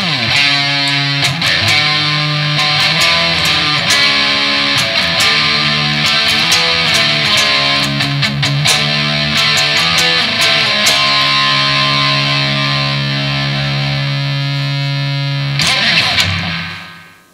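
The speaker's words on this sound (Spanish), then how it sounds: "Escuchen qué pasa si yo le agrego distorsión a esto que hicimos recién." A guitar chord progression with heavy distortion added plays loud and dense, sustained chords ringing continuously with a thick, saturated tone before cutting off abruptly at the end.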